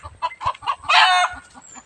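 Agitated village chickens clucking and squawking after dogs ran into the yard, several short clucks leading into one loud, drawn-out squawk, then quieter clucks again, all close by.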